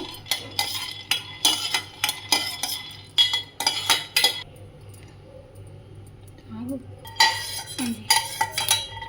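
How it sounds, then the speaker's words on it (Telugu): Peanuts fry lightly in a pan, a metal spoon scraping and clinking against the pan in quick irregular bursts, with a short pause midway and a quiet hum beneath. "పల్లీలు లైట్గా ఫ్రై చేద్దాము"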